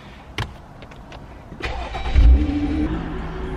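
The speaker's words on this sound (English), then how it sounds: "There's a BMW leaving." A BMW car drives out of a parking garage in Garden City, its engine swelling from a low rumble into a loud, close revving drone that echoes off the concrete.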